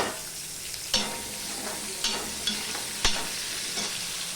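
Potato pieces frying in hot oil in a pan, a steady close sizzle broken by a few sharp clatters as they are stirred and turned, with no talking.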